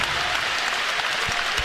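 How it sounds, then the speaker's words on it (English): Basketball crowd at Hilton Coliseum during a Kansas vs Iowa State men's game, roaring and applauding as fans rise to their feet, a loud dense wash of cheering and clapping that fills the arena without a break. "And listen to this crowd. They come to their feet here at Hilton Coliseum."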